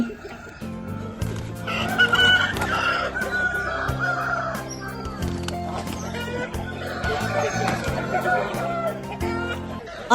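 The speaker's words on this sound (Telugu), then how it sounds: "సంక్రాంతికి అసలైన సరదా కోడి పందాలు ఇదిగో అవి కూడా" Roosters at a Sankranti festival cockfight crow and cluck repeatedly, loud and close amid a busy outdoor background with voices.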